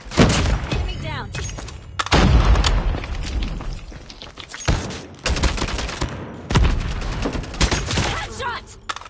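Assault-rifle fire rattles in a shooter video game, loud bursts broken by short pauses, with booming impacts layered in.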